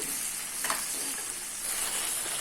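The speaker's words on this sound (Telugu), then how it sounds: "స్టవ్ సిమ్లో పెట్టుకుని ఇలా మధ్య మధ్యలో కలుపుకుంటూ వేయించుకోవాలి బెండకాయ ముక్కల్ని" Okra pieces frying on a low flame in a pan while being stirred now and then, giving a continuous soft sizzle with an occasional scrape, close by and with no talking.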